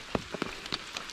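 Raindrops tapping on an umbrella along a forest hiking trail, a few distinct close pats over a soft, steady patter.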